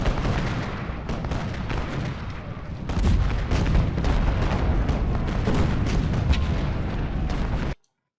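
Artillery fire in the Civil War strategy game Ultimate General Gettysburg: a dense, continuous barrage of deep booming cannon shots that grows heavier midway and then cuts off abruptly.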